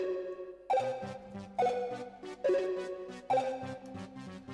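In a grime instrumental, a punchy grime stab hits four times in a steady rhythm while a melody and low bass notes play underneath, loud and close.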